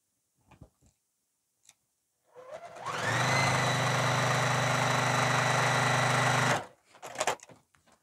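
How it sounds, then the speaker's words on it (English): A sewing machine runs in one steady, even whir for a few seconds, stitching along the side of a bag, with small handling clicks and rustles just before and after. "Turn it around, sew the other side on."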